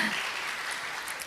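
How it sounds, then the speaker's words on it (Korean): A church congregation at a Wednesday worship service gives a brief, soft patter of applause that sounds somewhat distant and lasts only about a second. "박수 한번 드릴까요?"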